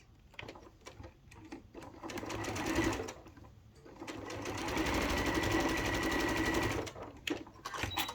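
Sewing machine stitching and back stitching a reusable fabric bag, close and continuous whirring bursts of a few seconds each with short stops between, no voices.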